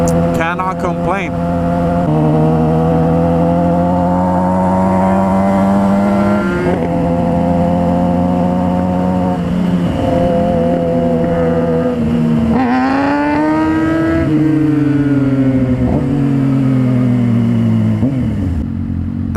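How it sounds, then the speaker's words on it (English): A Kawasaki 636 sport motorcycle revs hard while popping a wheelie in second gear, its engine note rising and shifting pitch loudly and close, with a voice talking over it. "That's 636 popping the wheel up in second gear."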